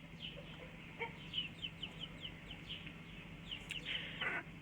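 Newly bought chickens clucking in a coop, a series of soft repeated clucks and chirpy calls over steady low background hum, ending with a louder squawk.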